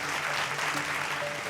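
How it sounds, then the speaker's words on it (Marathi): Loud, steady audience applause fills a large award ceremony hall at the Maharashtra Anmol Ratna Awards 2025, a dense wash of clapping hands sustained throughout with no voices on top. "एकदा जोरदार टाळ्या होऊन जाऊ देत या अनमोल रत्नांसाठी"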